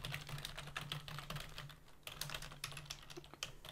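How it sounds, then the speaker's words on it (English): Quiet, steady typing on a computer keyboard, with soft, rapid key clicks going on continuously and no talking. "My fingers have an off by one error on the keyboard."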